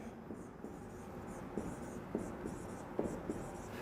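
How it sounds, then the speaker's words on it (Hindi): Marker writing on a board in a classroom setting: a series of soft, irregular scratchy strokes and taps over a quiet room hum. "ये 5R फॉर्मूला हम यहां पे लिखेंगे"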